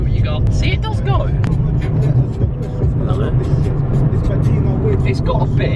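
A car accelerates hard with a friend at the wheel, its engine holding a steady, loud low drone throughout while people talk over it inside the cabin.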